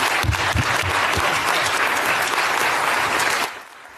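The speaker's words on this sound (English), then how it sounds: "The clapping goes on way too long." A large audience applauds, dense sustained clapping at full strength that suddenly drops away near the end.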